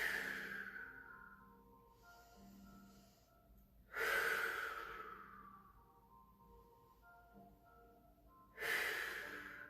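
Slow, deep breaths in a yoga forward fold with the nose toward the knee, two long airy exhales about five seconds apart, soft and close over quiet background music.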